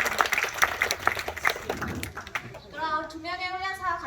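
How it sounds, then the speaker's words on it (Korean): Audience applause at a Jindo dog performance in a Jindo dog theme park, a scattered round of claps for the first couple of seconds, then fading as a sustained tonal voice takes over. "그럼 저희 진진이에게 강하게 큰 박수 많이 부탁드리고요."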